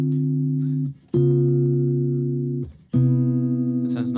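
Three-note voicings of tritone-substitution chords strummed on guitar, three sustained chords each ringing out clearly before the next, close and clean with no voices.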